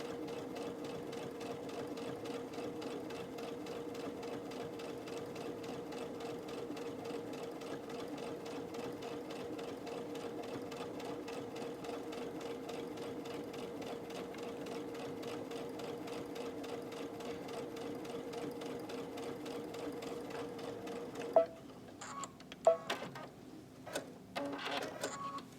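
A Brother sewing machine stitches binding in a steady, even whir with a fast regular needle rhythm, close and continuous for about twenty seconds before stopping, followed by a few light handling clicks and taps.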